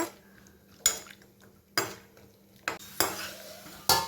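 Raisins fry gently in ghee for a millet (thinai arisi) ven pongal while a metal spoon scrapes and clanks against the pan every second or so, the sharp stirring strikes standing out over a faint sizzle.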